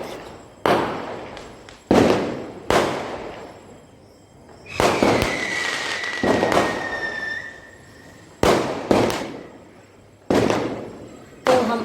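Fireworks in a residential colony on Ekadashi night, a series of sharp booming bursts spaced a second or two apart, with crackling tails and one rising whistle, moderately distant.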